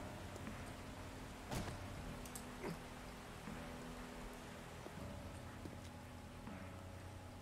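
Steady rain in the survival video game 7 Days To Die, a soft continuous patter with a few louder drop or step-like knocks, heard alone at low level.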